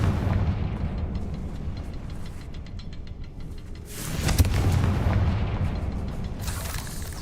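A Confringo blast spell bursts in Hogwarts Legacy, a heavy booming explosion with a sharp crack midway and a rumbling roar that swells and lingers, loud and close over a low continuous game background.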